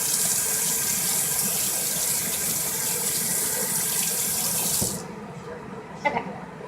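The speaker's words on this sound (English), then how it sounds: "now that I washed my hands from all those egg yolks" Tap water runs steadily and loudly while hands are washed clean of egg yolk at a kitchen sink, then the flow cuts off abruptly, followed by a couple of faint drips and handling knocks.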